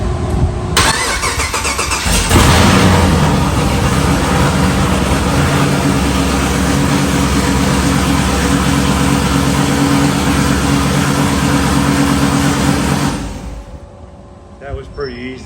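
An LS V8 engine swapped into a Land Rover cranks briefly, then fires and settles into a loud, steady rumbling idle close by, cutting off near the end.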